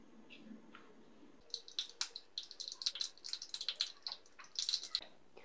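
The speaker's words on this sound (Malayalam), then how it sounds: "കടുക് പൊട്ടി വരുമ്പോൾ" Mustard seeds splutter in hot coconut oil while tempering for pineapple pulissery. After a quiet start, a rapid, irregular burst of sharp crackling pops sounds close by, growing denser, with no voices.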